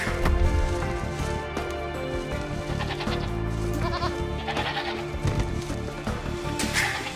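Goats bleat in the Age of Empires II strategy game, repeated short calls layered over game music and effects, fairly steady throughout.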